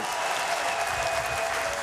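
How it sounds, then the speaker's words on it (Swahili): Applause from a crowd at a Yanga club general meeting, with dense, even clapping that carries steadily through the short stretch. "Makofi mengi kwake."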